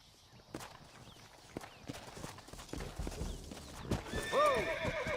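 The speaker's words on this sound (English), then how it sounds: "Looks like Carlos left us some horses." Horses in the Red Dead Redemption video game clop their hooves in a steady rhythm, and a loud whinny breaks out near the end. Scattered gunfire-like hits sound in the background.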